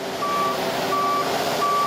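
Heavy trucks work a hot construction site with a steady engine rumble, while a repeating reversing beep sounds three times at an even pace over the continuous noise.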